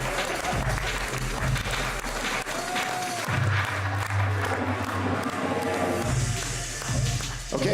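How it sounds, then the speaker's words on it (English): Audience applause at the Solskogen 2017 demoparty for contestants in a live shader competition, with a dense, steady wash of clapping and crowd noise running throughout, joined by occasional cheers and shuffling. "And a big hand of applause to Blueberry and Rohtie for those things."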